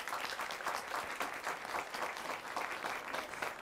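Audience at a 2013 Arkansas high school quiz bowl match clapping for a team, even, continuous applause from a roomful of people, moderately distant and without talk.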